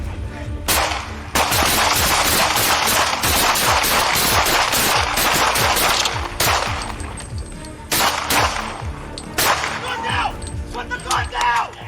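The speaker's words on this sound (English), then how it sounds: "He fired once toward officers, forcing them to respond with gunfire." Police officers and a suspect exchange gunfire, with rapid bursts of loud, close cracking shots interrupted by brief pauses and shouting voices.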